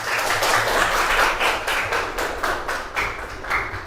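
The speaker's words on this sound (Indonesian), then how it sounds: "Kasih aplaus untuk kelompok 2." A classroom audience of trainee teachers claps for a group after its presentation, a loud, dense burst of many hands that fades slightly toward the end.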